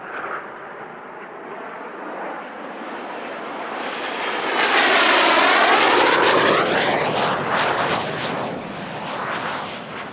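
Italian Air Force display jets roar past at a centenary airshow, a loud sustained jet rush swelling to a peak as the formation passes close, then slowly fading as they charge away.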